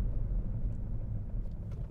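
An Audi A2 with worn brake discs brakes while driving, giving a low, steady rumble and vibrating drone from the shaking car, with faint rattles on top.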